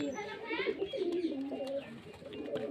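Pigeons coo in low, warbling calls at close range, with other bird sounds mixed in behind someone talking.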